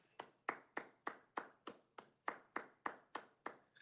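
About a dozen sharp handclaps land in a steady, even rhythm, close and distinct, each with a short room decay, no voices heard.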